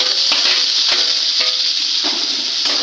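A ground paste of tomato, aubergine, chilli, garlic and coriander leaves sizzles steadily in a pan while being stirred, with a constant bright hiss and soft periodic scrapes and knocks of the spoon.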